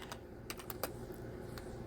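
Fingers tap on a computer keyboard, a handful of quiet, sharp clicks in an irregular burst, close and faint in an otherwise hushed room.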